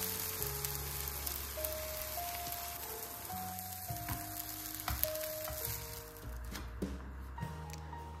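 Liver pancakes cook in a pan for a layered liver cake, giving a soft, steady sizzle under quiet background music, with no talk.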